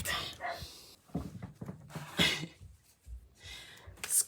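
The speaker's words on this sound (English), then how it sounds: "Screaming at my dogs through the window." Dogs bark outside a window in a scattered, irregular burst of yaps and panting, moderately loud, with a person shouting at them at times.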